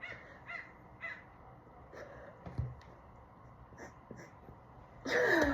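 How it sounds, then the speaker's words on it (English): A crow caws outdoors several times in spaced, hoarse calls of moderate loudness over a quiet background, followed by a brief louder burst of noise at the end. "The crow, you heard it? I hope you heard it."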